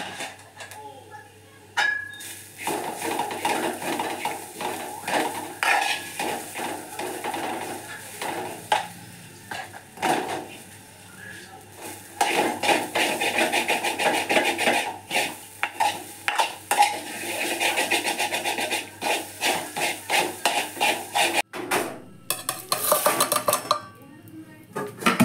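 Grated coconut with turmeric powder frying in a pan, with a spatula repeatedly scraping and clanking against the metal over a low sizzle, busy and close, some brief talking mixed in.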